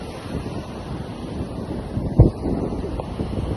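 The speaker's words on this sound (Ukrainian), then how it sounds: "сьогодні дуже сильний вітер" Strong wind buffets the microphone in a constant roar, with a dull thump partway through and no voices.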